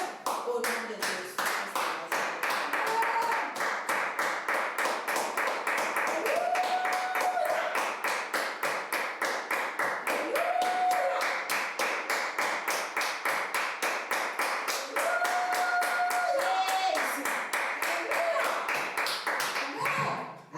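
A church congregation claps in praise during a service, a steady, rhythmic beat of many hands that continues throughout under voices singing and calling out.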